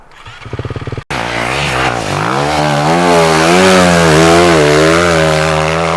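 A dirt bike engine revs loudly and steadily close by during riding practice on sand, its pitch rising and wavering continuously after a short idle and a brief cut at the start.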